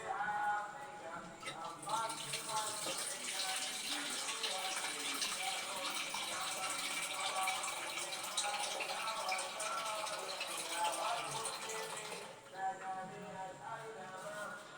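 Water pours steadily into a gas fryer, a continuous broad rushing gush lasting about ten seconds before easing off, fairly close and moderately loud.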